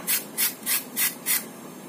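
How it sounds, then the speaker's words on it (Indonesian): Carrots being grated by hand on a shredder, five evenly spaced rasping strokes in a steady rhythm, close and clear with no talk. "Wortelnya kemudian kita serut juga ya."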